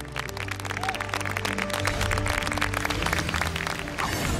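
Studio audience at a televised Chinese singing competition applauding a singer, scattered clapping layered under sustained musical tones from the stage, moderately loud throughout.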